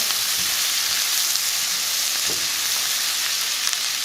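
Onions cook in a hot pan alongside seared chicken, giving off a loud, steady sizzle and crackle that holds at an even level, with occasional faint scrapes of stirring.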